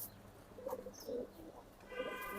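Male racing pigeons in a loft give soft, faint coos, a few low murmuring calls in quick succession over a quiet background.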